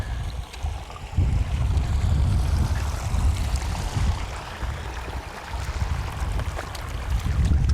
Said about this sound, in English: Eventually you come to a stream.